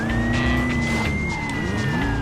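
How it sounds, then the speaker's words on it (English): A police car's siren wails steadily in the Driver: Parallel Lines video game over a loud, continuous engine roar, with no talking. "let's turn the sirens off"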